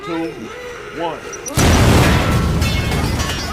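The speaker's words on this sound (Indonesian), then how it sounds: "Michael dan Franco pun langsung saja membuka tempat penyimpanan rahasia tersebut menggunakan bom." A bomb blows open a secret vault in an action film: a voice is heard first, then a sudden loud blast erupts into a sustained, rumbling roar of debris and noise.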